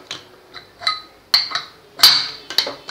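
Metal clatter of a pressure cooker lid being handled and opened after the steam has fully escaped, a string of sharp clinks and knocks of varying strength, close and with no voices.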